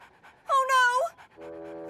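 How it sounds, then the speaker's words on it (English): A cartoon puppy whimpers in a high, wavering whine, followed by a steady, sustained moaning tone; close and fairly loud. "Gwen, put that disgusting dog down."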